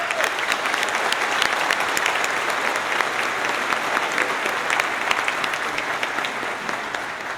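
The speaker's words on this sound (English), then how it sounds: "Please join me in a warm round of applause for their efforts." A crowd at the Cohasset High School 2023 commencement gives a warm round of applause, a dense, steady roar of clapping that holds strongly throughout with no speech over it.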